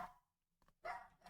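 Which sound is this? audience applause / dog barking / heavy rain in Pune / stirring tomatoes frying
dog barking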